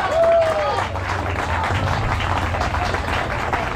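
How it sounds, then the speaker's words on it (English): An audience applauds a guest singer being brought on stage, a short burst of clapping and crowd noise. "Give it up. Claps."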